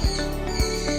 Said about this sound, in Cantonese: 係熟悉嘅鸚鵡叫聲啊！